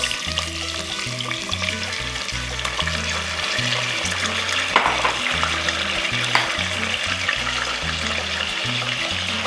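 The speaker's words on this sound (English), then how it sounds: "Next I'm going to add the shrimp" Shrimp for Spanish garlic shrimp sizzling in a hot pan, a steady loud frying hiss with crackling pops throughout, no talking.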